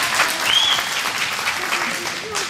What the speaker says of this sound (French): Merci d'applaudir Joy ici présente